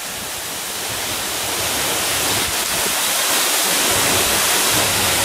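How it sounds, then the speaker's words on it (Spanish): A waterfall roars as a dense, steady wash of broadband noise heard from the base of the falls, loud and close, with no voices. "esta es la vista desde la parte baja de la cascada."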